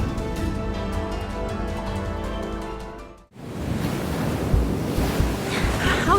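Ocean surf and rushing water in the Under Deepspace video game, following a musical passage that cuts off; a steady, broad wash of waves with wind-like hiss continues loud and close to the end, with no talk.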